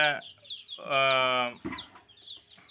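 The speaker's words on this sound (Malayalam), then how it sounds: "കോഴിക്കുട്ടികളൊക്കെ ഭയങ്കര ഉഷാറാണ്" Black-and-white speckled and grey-spotted chicks peck at tomatoes, giving off close, loud cheeping and clucking calls in short bursts with a sustained call in the middle.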